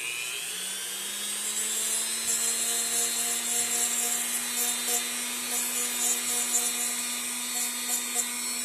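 A sanding bit works across a board on a tape machine being serviced, a steady whining motor drone with a rising pitch, continuous and close, with gritty rubbing hiss throughout and no talk.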